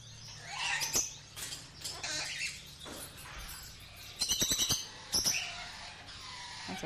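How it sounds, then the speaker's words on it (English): Caged cinnamon green-cheeked conures chirp in short sharp bursts, with scattered single calls and a quick rapid flurry near the end, close by in an indoor bird room. "These are conures."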